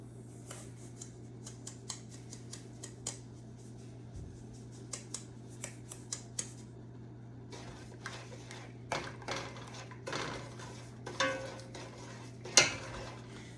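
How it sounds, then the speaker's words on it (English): Sugar mixture being stirred into candied yams in a pot on a stovetop: scattered light clinks and scrapes of a utensil against the pot, irregular and fairly quiet over a steady background hum, with a sharper clank near the end. "start mixing in that sugar mixture now"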